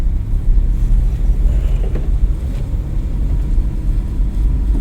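A car's engine during a driving lesson, pulling away in first gear: a steady loud low rumble of engine and road noise that holds throughout with slight rising swells, no talking heard.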